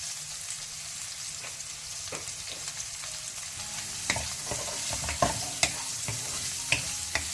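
Onion and chillies sizzle and crackle steadily in a hot pan for a Mangalorean clam soup, with occasional sharper pops and spatters growing more frequent toward the end, close and fairly quiet, with no voices.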